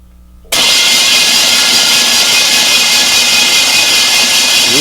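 A starter cranks a Chevy 350 engine on a test rack, bursting in abruptly after a quiet moment and continuing as a loud, steady mechanical whir with no speech.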